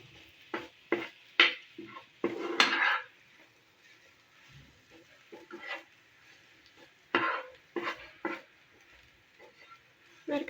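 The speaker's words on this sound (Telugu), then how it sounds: "ఇవన్నీ బాగా కలిసి బాగా వేగే వరకు మరి కాసేపు వేయిద్దామండి" Spices and vegetables for aloo palak, with coriander powder added, stirred and frying in a pan: intermittent scraping and stirring strokes with a soft sizzle beneath, close and moderately loud, with quiet gaps between bursts.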